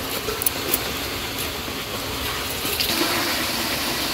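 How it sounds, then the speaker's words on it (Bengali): Water is poured into a pan of meat being browned in a village kitchen, making a steady broadband hiss and sizzle that continues throughout, with faint clinks. "পিসির মাংস কষানো হয়ে গেছে গা, এখানে জল দিতেছে"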